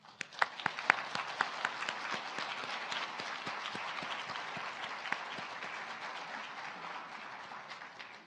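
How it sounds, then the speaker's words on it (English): Audience applause at a college nursing pinning ceremony, a steady sheet of many people clapping, with sharper individual claps near the start, moderately distant and even. "Let's take a moment to applaud the village that helped make this achievement possible."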